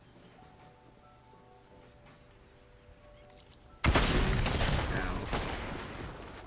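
Gunfire in the Fortnite video game, a sudden loud burst of shots breaking in after a quiet stretch and continuing as dense, rattling fire; a brief exclamation from a player is heard.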